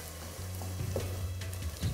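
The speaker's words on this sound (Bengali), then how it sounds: "এবার এই পেঁয়াজটা যতক্ষণ ভাজা হচ্ছে" Onion frying in a pan for mutton curry, a steady sizzle with a low hum beneath and occasional stirring sounds, continuous and fairly close over two seconds.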